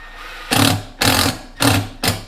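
Power drill driving a screw into wooden beekeeping hive parts, four short whirring bursts of about half a second each, close and fairly loud with brief pauses between.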